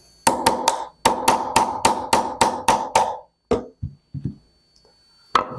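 A roll punch is hammered into a Walther PDP full-size magwell, about ten sharp, ringing metallic taps in a quick rhythm, then a few softer scattered taps after a pause and one last strike.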